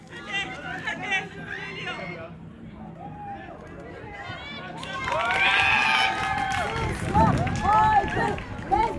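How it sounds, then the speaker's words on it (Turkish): Spectators at a football match at a Turkish women's alternative sports event, a crowd chanting and shouting loudly in rising rhythmic bursts close by, over earlier mixed voices and hubbub. "Evet, seyirci tezahürata başladı."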